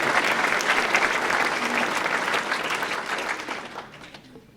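Audience applause at a chamber of commerce annual meeting, a full burst of clapping from a crowd that stays strong and then tapers off toward the end.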